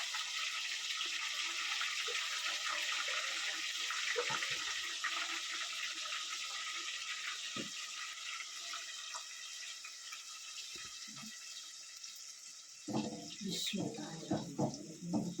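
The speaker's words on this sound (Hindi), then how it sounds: "इसमें हम थोड़ा सा पानी डालेंगे।" Water poured into a tomato and onion masala paste for white lobia curry makes a steady rushing pour that gives way to faint bubbling and stirring, with a voice talking briefly near the end.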